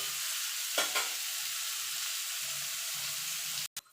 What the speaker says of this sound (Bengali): এই তেলে ইঁচড়গুলো ভেজে নেব।